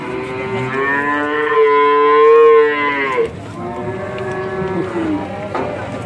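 A young calf lets out a long, loud moo with clear harmonics, then a second, rougher bellow follows immediately, close by with no talk; the calf is a high-quality young bovine with a small horn and a short tail.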